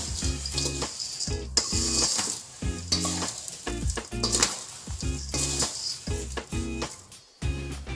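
Salted thin poha chivda being stirred and tossed in a pan, with steady rustling, scraping and crackling over low musical tones, and a busy rhythm of scoops and shakes throughout.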